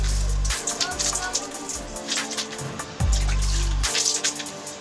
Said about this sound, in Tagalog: Banlawan lang natin ng kaunti, bahagya lang.